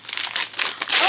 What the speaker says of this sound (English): So let me unwrap this.